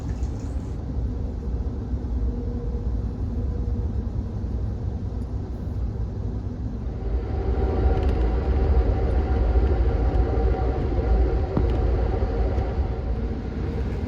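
Steady rumbling drone of the Amtrak Southwest Chief passenger train riding through the Mojave Desert, heard from inside a coach car, with a constant low roar that swells slightly louder about halfway through.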